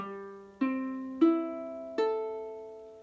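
Four single ukulele strings are plucked one after another, each note ringing clearly and fading, quiet and close with no talking.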